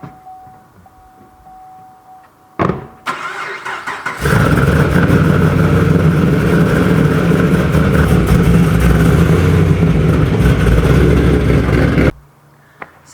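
A car engine starts with a short burst, then drones loudly and steadily for several seconds as the car is driven into a garage. The engine cuts off abruptly near the end, leaving quiet.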